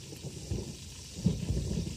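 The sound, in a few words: thunderstorm with rain, radio play effect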